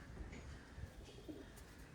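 Kalshila pigeon chicks cooing softly in a loft, low murmuring coos repeating a few times at close range over a faint background hum, with no talking.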